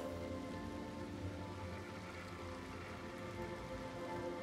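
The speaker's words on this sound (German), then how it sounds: "Oh, Regen." Steady rain falling in the horror video game Little Nightmares 2, a dense, continuous patter on surfaces with no break, heard alone at moderate volume.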